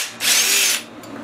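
Power driver whirs in one short, loud burst while backing screws out of a Honda clone generator engine with an oil leak, then winds down.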